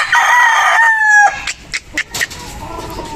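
A rooster in a small backyard chicken coop gives a loud, close crow, followed by a series of short, sharp clucks and squawks from the chickens against a quiet background.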